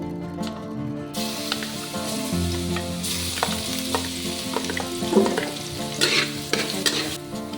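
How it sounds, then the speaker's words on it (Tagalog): Garlic sizzles steadily in hot cooking oil for pancit habhab, a loud continuous frying hiss with occasional utensil stirring scrapes and a faint background hum. "Ayan, mainit na yung cooking oil. Ilagay na natin yung syempre garlic."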